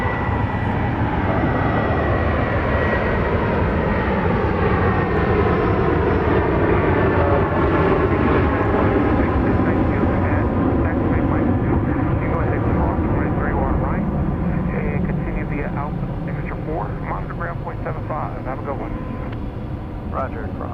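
A jet airliner takes off at night from Dallas Love Field, bound for El Paso. Its loud, steady engine roar fills the whole stretch and fades slightly toward the end, while radio chatter runs faintly underneath.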